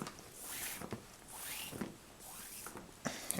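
A string drawn through a loop on a waterfowl call lanyard, giving a few quick soft zipping rasps, close and faint, in short separate pulls.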